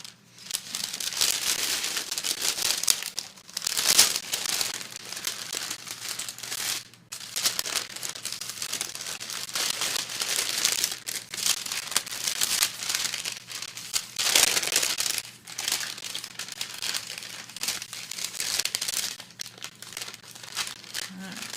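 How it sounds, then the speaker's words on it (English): Parchment paper crinkling as it is peeled off a square of chilled butter for an almond kringle, with continuous close crackling rustles over about twenty seconds. "peel off that parchment paper."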